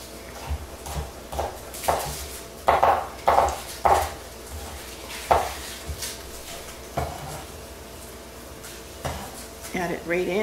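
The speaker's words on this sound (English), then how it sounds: "I'm going to cut up these two tomatoes into some dice" A knife taps sharply on a cutting board in uneven bursts of chopping as tomatoes are diced, close by, with a voice talking in between.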